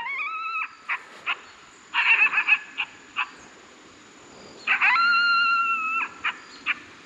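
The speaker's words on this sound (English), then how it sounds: "Here's a male coyote." Male coyote calls played from a Foxpro Patriot electronic game call about 50 to 60 feet away: rising, wavering yips and howls come in two bursts separated by short sharp barks, moderately loud and heard alone.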